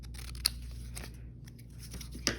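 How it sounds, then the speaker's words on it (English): Scissors cut out a paper stamp for junk journal ephemera, making two sharp, close snips with faint rustling of paper between them over a low steady background hum. "I'm going to cut this stamp right here."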